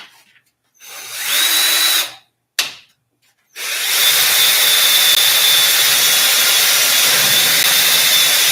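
Power drill boring into thick material, likely steel, while working on steering components: short whining bursts, then a sustained loud high-pitched drilling whine close by, with brief pauses between.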